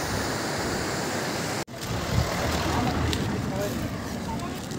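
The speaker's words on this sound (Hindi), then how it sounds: "वो देखो वो रहा झरना." A waterfall near Mawsmai Cave in Meghalaya gives a steady rushing roar, continuous and fairly loud, broken only by one brief cut early on.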